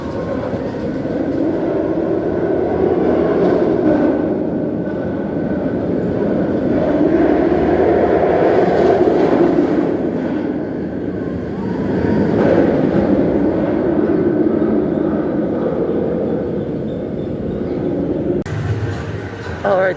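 The Montu roller coaster at Busch Gardens, running a single train, gives a loud, continuous roaring rumble that swells and fades over twenty seconds, with voices mixed into the noise.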